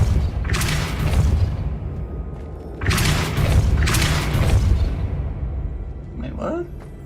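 Heavy booming spell impacts from a Depulso force-push spell in Hogwarts Legacy, two loud rumbling bursts with whooshing tails, followed by a brief high magical shimmer.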